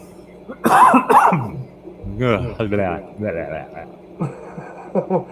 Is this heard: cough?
yes